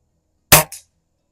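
A Beeman R7 German air rifle fires at plinking targets on a range: one sharp, close crack with a short metallic tail, then a brief second smack a moment later, loud against silence.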